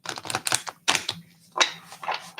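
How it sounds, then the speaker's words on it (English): Tarot-style rune cards are shuffled by hand in a series of quick, close, papery riffles and flutters, irregular bursts with brief pauses between them. "I'm going to shuffle these cards right here."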